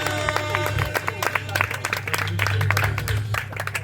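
An audience claps for the dancers at a pool party during the Cannes fringe festival, a short burst of close, dense applause mixed with crowd noise while a voice speaks over it.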